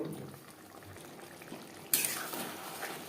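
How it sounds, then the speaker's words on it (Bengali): Vegetarian pointed gourd curry simmers in a pot with a faint, low bubbling that swells suddenly into a brighter, louder bubbling hiss partway through. "পটল প্রায় সেদ্ধ হয়ে গেছে, আরও 3-4 মিনিট রান্না করব।"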